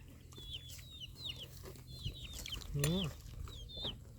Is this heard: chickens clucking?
yes